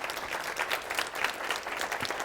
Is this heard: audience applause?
yes